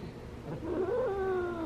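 An angry house cat caterwauls up close, a long rising then wavering low yowl that holds steady for about a second in a quiet room, with no talking.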